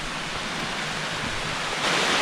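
Loud, steady rush of a waterfall on a Montana mountainside, a dense broadband roar that holds constant throughout and swells slightly near the end, with no voices over it.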